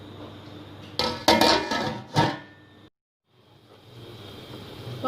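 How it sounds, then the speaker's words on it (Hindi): A few sharp metallic clanks and clinks as a lid settles onto a pot of water set to boil, followed by a brief hush and then quiet kitchen background. "अब हम ढक्कन रख देंगे पानी उबलने तक।"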